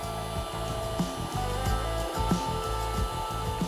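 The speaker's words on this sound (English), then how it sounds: "The vacuum picks up nicely" A small USB-powered vacuum cleaner for model trains runs steadily, a continuous motor whir with a faint rhythmic flutter, close and fairly loud with no talking.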